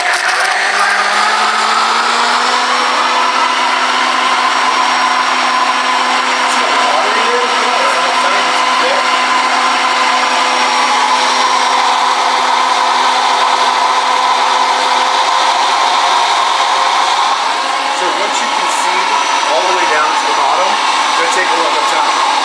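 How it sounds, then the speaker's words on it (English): A blender whirring through a protein shake with the lid off, a loud, steady motor whine held without pause for over twenty seconds. "It's gonna mix really well. I don't even put the lid on when I do it because it mixes so well."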